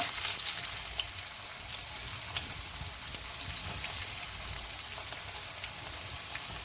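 Onion dropped into hot peanut oil fries with a continuous bright sizzle and crackle, close by and steady, with small pops scattered throughout and no talking.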